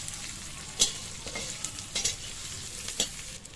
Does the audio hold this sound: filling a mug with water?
no